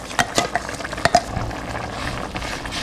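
White vegetable kurma paste with added water bubbling and sizzling in a pan, with a few quick scraping stirs early on before settling into a steady, gentle simmer.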